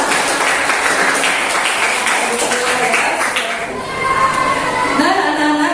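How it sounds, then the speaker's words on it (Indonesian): Students in a school classroom clap together in a dense burst that fades after a few seconds. Voices continue talking once the clapping dies down. "silakan tepuk tangan semuanya"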